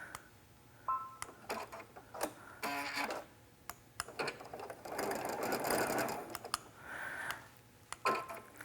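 A sewing machine stitches thread-painted lettering in short, close bursts of rapid mechanical whirring, broken by brief pauses and small clicks as the fabric is repositioned.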